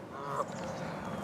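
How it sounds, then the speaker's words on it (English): A goose honks once nearby along a riverside walking path at dusk, a short nasal call rising briefly over steady outdoor background noise. "Are you talking to me, Mr. Goose?"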